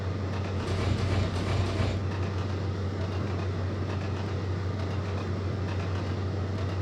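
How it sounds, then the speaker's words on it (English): An Intercity 125 train in the Trainz Plus game runs on an East Coast Main Line service toward Waverley, a steady, loud rumbling drone of engine and rails that continues throughout without speech. "So let's start slowing that train down."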